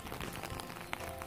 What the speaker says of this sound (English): Going through that